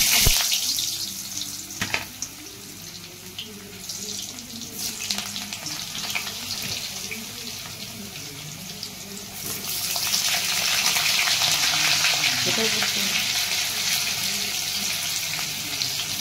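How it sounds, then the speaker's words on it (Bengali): Potatoes fry in hot oil with a continuous hissing sizzle nearby that swells louder partway through, with a few soft clanks from the pan. "এবার আমি আলু ভেজে নিচ্ছি"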